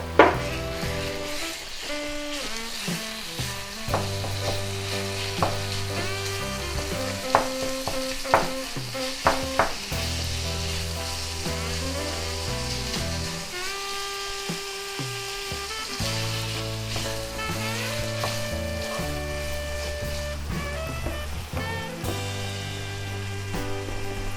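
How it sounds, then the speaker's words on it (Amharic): Onions and minced meat frying in a pan for teff-flour fit-fit, a steady sizzle under frequent scraping and clinking of a utensil against the pan, with music playing throughout. "ከዛ በዚህ መልኩ ሲጠበስ ሽንኩርቱ ያዘጋጁትን ጥቂት ስጋ እንደዚህ ጨምራለሁ"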